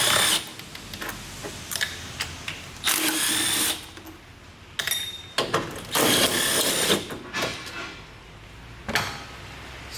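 Power drill or impact driver backing out three 10mm bolts on a Toyota Prius during headlight work, heard as several separate loud whirring bursts with short pauses between them.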